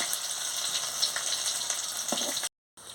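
Pumpkin flower fritters fry in hot oil in a pan with a steady, soft, close sizzle and a few brief crackles, cutting to silence just before the end.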